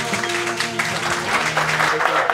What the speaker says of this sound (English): How about a big round of applause for our beautiful bride and her father, Ronald.